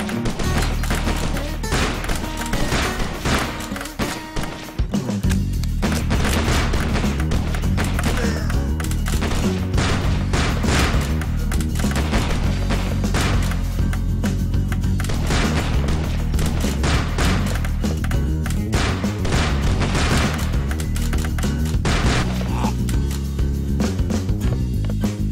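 Revolver gunfire in the video game 12 is better than 6, a dense run of sharp shots and impacts from a saloon shootout, with a brief lull early on before the rapid firing resumes and carries on steadily.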